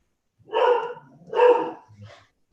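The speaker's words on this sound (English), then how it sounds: "that's my dog going off" A dog barks nearby indoors: two loud, separate barks about a second apart, then a softer third yip, with quiet between them.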